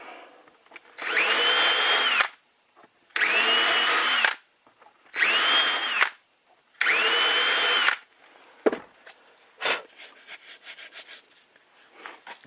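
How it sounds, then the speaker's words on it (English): A power drill with a Forstner bit recesses T-nut holes into wood for an RC boat motor mount, running in four steady, loud bursts of about a second each with short pauses between, followed by softer scraping and handling noises. "Now you're probably wondering why there's a Forstner bit here. That is to recess the back of the T-nut into the wood."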